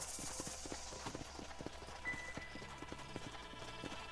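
Horse hooves clip-clopping steadily at a riding pace in the video game Red Dead Redemption, a close, continuous rhythm of hoof beats under faint background ambience.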